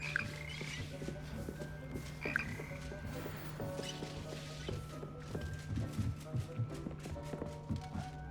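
A frog croaks repeatedly in the video game Hogwarts Legacy, soft and close over a low steady hum, with a few clopping steps and faint game sounds around it.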